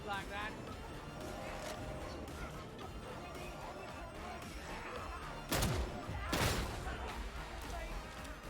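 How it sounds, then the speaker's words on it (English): Gunfire in a Warhammer video game: a couple of heavy, sharp shots and thuds crack out near the end over a dense, busy wash of battle noise that fills the whole stretch. "I didn't really need to shoot those"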